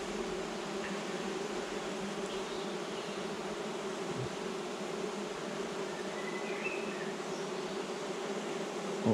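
Honeybees buzzing steadily around an open beehive during a colony inspection in May, a dense, continuous hum with no pauses, close and alone.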